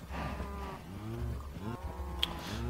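Cattle lowing in Minecraft: several drawn-out, bellowing moos with overlapping harmonic calls, steady and close, with no talk over them.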